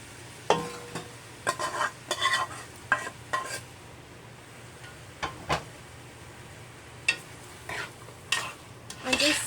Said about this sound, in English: And just stir it, just to mix everything together.